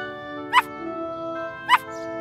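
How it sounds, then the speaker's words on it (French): Two short, sharp barks from a small cartoon dog, evenly spaced over a steady musical background, each bark brief and fairly close. "Quelqu'un aboie."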